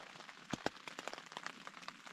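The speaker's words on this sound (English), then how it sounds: "It's raining." Light rain pattering steadily on a trail campsite along the Appalachian Trail in the morning, with scattered louder drops and splats over a soft continuous hiss, heard close by.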